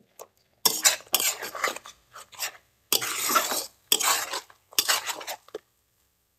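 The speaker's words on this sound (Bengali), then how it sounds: "তো মশলা কষানো হচ্ছে" A spatula scrapes and stirs a spice paste with garlic paste and green chillies as it sautés in a pan for a chicken roast, coming in several separate rough bursts with short pauses between them. No one speaks.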